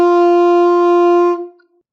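A saxophone holds a single sustained D, played with the octave key, rich in harmonics and steady for about a second and a half before cutting off cleanly, alone and close.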